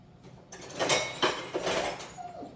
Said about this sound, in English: we'll just kind of whisk that together